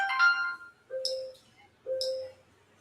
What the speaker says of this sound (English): Man, hear my phone blowing up.